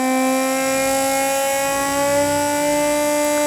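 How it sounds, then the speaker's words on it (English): A small high-RPM DC motor driven by an Arduino through a TIP122 transistor gives a steady loud whine, its pitch rising slightly as its speed climbs, with no talk over it. "Duty cycle increasing, the speed of the motor is also increasing."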